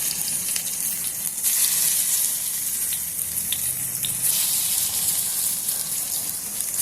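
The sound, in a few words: pakoras frying in oil in a wok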